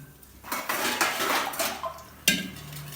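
A metal lid set onto a cooking pot, with clattering of cookware and utensils building to a sharp clink near the end.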